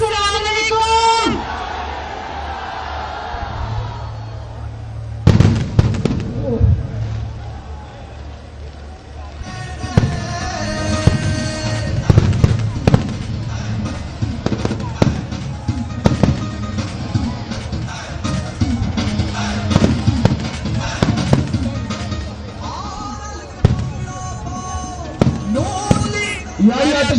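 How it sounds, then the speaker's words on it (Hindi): Fireworks and firecrackers going off at a nighttime political rally, sharp repeated bangs and crackles scattered through the clip under someone speaking over a loudspeaker, with crowd noise in the background. "मेरी मुस्तफा साहब से गुजारिश है कि आतिशबाजी बंद करें।"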